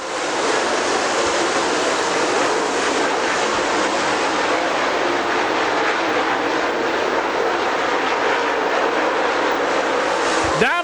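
Super late model race cars roar around a dirt speedway at a feature race, a dense, steady wall of engine noise with passing cars blending together, loud and continuous with no talk.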